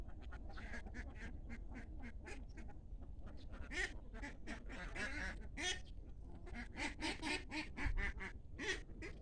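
A flock of ducks kept at a rural farm quacks almost constantly, with many overlapping calls, some loud and near and others fainter, over a steady low background rumble.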